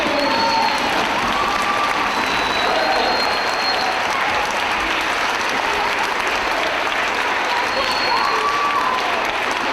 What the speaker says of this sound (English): give the teachers of school number 15 as well as your principal a big round of applause